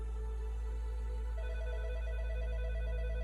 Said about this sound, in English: when his phone rang